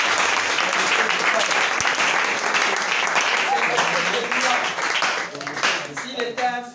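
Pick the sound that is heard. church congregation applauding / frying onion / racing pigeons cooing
church congregation applauding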